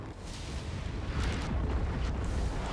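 A missile blast in MechWarrior 5 rumbles as one continuous heavy boom, loud and close, with a deep swelling roar that lingers for a couple of seconds without pause.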